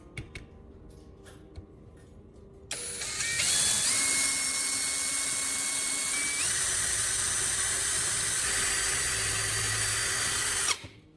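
A power drill spins up and bores slowly into the metal frame of a cheap stapler, a steady high whine that holds for about eight seconds at close range before cutting off, with quiet handling noises beforehand.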